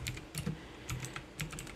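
A few quick keystrokes on a computer keyboard, typing a short word into a LAN messenger chat, in light uneven clusters of clicks, close and fairly quiet, with no voices.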